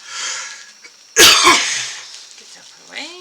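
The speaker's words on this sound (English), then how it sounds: "Sorry for the coughing." One person gives a sudden harsh cough, a couple of sharp bursts with throat clearing, close to the microphone in a quiet room, with faint soft background sounds before and after.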